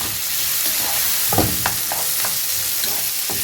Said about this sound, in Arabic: هندي بقى للبصل تشويحه كده تاخد من ريحه الفراخ